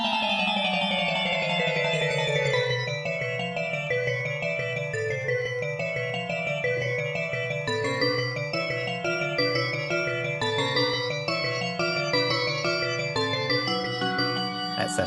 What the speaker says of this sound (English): if I put in a MIDI file of the battle music from the first Pokemon game